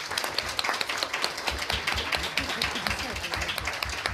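Conference audience applauding after a talk on the origins of the war in Ukraine, a dense, steady patter of many hands clapping close by for the whole stretch, with no voices over it.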